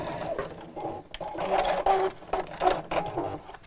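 A sewing machine stitches the seam of a small fabric caddy bag in steady runs, its motor whirring in bursts that pause briefly and restart, close and fairly loud with no talking.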